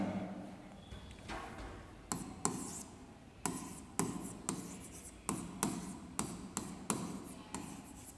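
Chalk on a classroom board during a psychology lesson: a run of short, scratchy strokes in quick bursts, fairly close, with brief pauses between letters and faint room noise underneath.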